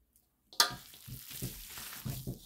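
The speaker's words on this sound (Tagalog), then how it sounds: "Haluin na po." Longganisa sausage sizzles in a pan. After a brief silence, a sharp sizzle bursts up, and uneven stirring scrapes and pulses follow close by.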